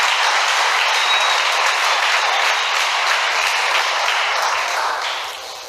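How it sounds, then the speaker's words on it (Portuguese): A church congregation applauding during a sermon, a sustained wash of many hands clapping at even loudness that begins to fade near the end, with no voices over it. "Dê um aplauso a Jesus."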